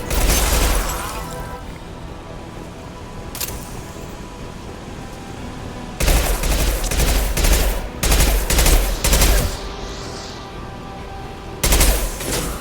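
Bursts of automatic gunfire and booming shots from a shooting video game, loud and close, arriving in several heavy clusters separated by quieter stretches of rumbling background.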